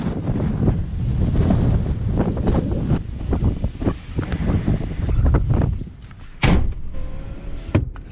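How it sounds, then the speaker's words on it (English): Strong 32 mph gusts buffeting the microphone at a kayak launch, loud irregular rumbling blasts that surge and drop, with a brief lull near the end followed by more gusting. "32 mile an hour winds"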